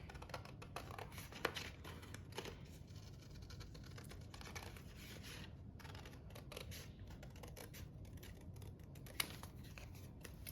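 Scissors snipping cardstock, fussy cutting around a stamped rainbow: faint, close, irregular crisp snips and small paper rustles spread across about ten seconds, with no voices.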